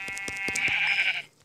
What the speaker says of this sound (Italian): Un'altra pecora.